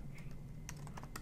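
Quick, close keystrokes on a computer keyboard, a handful of crisp taps clustered in a short burst over a low background hum.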